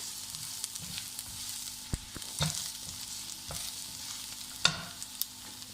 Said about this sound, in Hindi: इसको बस हल्का सा हमने मिक्स ही करना है